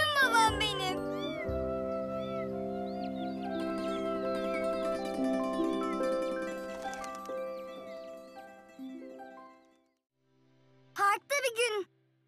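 Cartoon cats and tiny kittens meow in a string of high, wavering cries over background music, followed by a few short, loud mews near the end.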